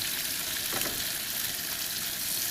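Bacon sizzles and crackles steadily in a hot pan, a dense continuous frying hiss with no talking.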